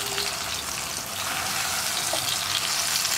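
Brinjal slices fry steadily in hot oil in a pan for a Kerala-style eggplant curry, a continuous close sizzle and crackle with no talking.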